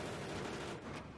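Video game gunfire from a shooter match, a brief burst of shots around a shotgun, heard muffled and fairly quiet in a single short volley.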